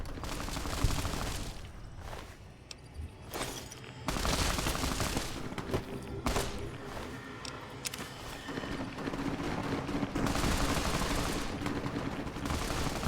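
An automated turret in Fallout: New Vegas rattles off repeated bursts of rapid gunfire, loud and sustained with short gaps between volleys, over a busy backdrop of game noise.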